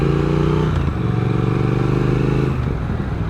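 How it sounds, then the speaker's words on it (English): A 2021 Triumph Speed Twin motorcycle engine runs at low revs, a loud, close, throbbing parallel-twin burble with a steady pulsing rhythm and slight rises in revs. "the engine tone at low revs, can you hear that?"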